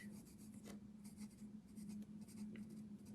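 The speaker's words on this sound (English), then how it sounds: "Do a little bit of pencil in these." Pencil drawing on paper for a tangle-pattern art tile, a quiet continuous scratchy rubbing with short strokes and brief pauses, close up and alone.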